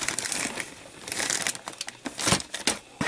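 A bag of plastic model kit parts for a Moebius Models Batmobile is handled close up, its thin plastic crinkling and rustling loudly in continuous uneven bursts with no voices.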